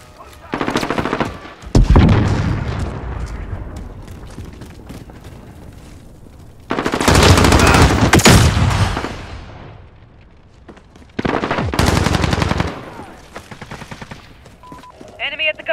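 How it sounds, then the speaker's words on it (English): Video game battle gunfire: heavy automatic bursts erupt loudly in several waves, separated by quieter stretches of scattered shots and background noise. "Taking fire!"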